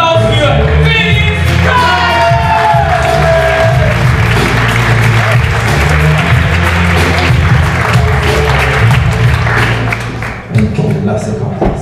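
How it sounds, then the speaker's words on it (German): Loud applause and whoops from a bar audience greeting a poetry slam performer, a dense clapping wash with shouts and cheers, mixed with stage sound and voices, dipping briefly near the end. "Klatscht ihn auf die Bühne, heißen herzlich willkommen, Liebe und Applaus für Willi!"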